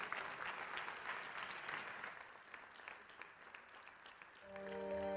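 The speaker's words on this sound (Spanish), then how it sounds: "Fuerte aplauso para todas ellas" A conference audience claps steadily in sustained, fairly faint applause that tapers off before music swells in at the end.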